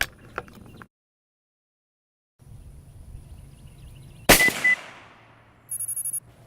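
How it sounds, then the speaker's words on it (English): A single sharp rifle shot fired while zeroing a ZEISS Conquest V4 scope outdoors, a loud crack with a brief trailing echo amid quiet field ambience, followed by a short electronic beeping. "Let's see where shot number 1 goes."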